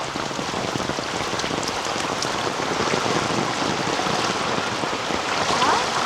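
Heavy monsoon downpour in a Konkan village beside flooded farmland and a swollen stream, a constant roaring hiss of rain on surfaces, close and unbroken, with no voices.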